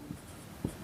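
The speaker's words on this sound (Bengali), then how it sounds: "তাহলে লিখব" Pen scratching on paper during a class 8 percentage maths lesson, two short quiet strokes well apart with a faint room hush in between.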